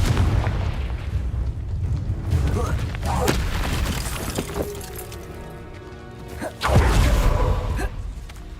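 A Confringo fire spell blasts in the game Hogwarts Legacy, landing as a loud booming burst with a whooshing rush. Several heavy impacts hit over about eight seconds, the strongest near the end, set against rumbling game ambience.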